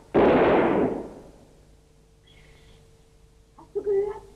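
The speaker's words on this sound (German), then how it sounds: "Moment, ich feuere einen Schuss ab." A single gunshot fired in a cave in a German-language dramatization of Tom Sawyer booms loud and close at the start, then decays into a long echoing tail before voices begin calling out.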